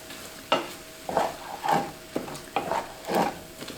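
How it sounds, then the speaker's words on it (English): Spices and soy milk being stirred together in a pan, giving repeated scraping strokes with a soft sizzle, close and moderately loud with no talking. "I'm going to add some soy milk to get it all going. And just mix it all together."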